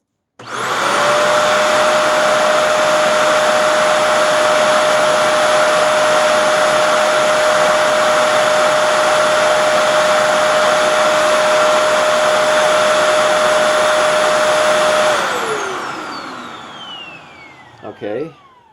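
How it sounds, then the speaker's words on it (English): A Shark Rotator XL NV90 upright vacuum runs steadily with its brush roll engaged, a loud continuous whine with a sustained motor tone that holds for about fifteen seconds, then winds down and falls off, followed by a couple of brief knocks. "And last, I'll turn the brush roll back on."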